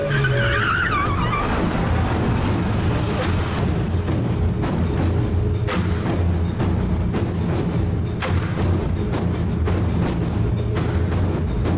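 A car in a film scene skids loudly with tires squealing, its engine rumble continuous and near, settling to a steady idle after the initial screech; no voices.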